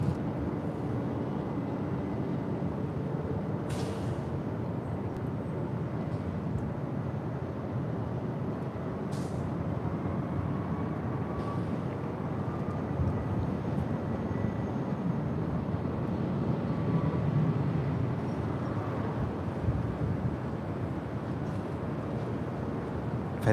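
Emirates A380 airliner departing LAX, a broad distant jet roar that swells gradually and holds steady, with faint background noise and no nearby talk.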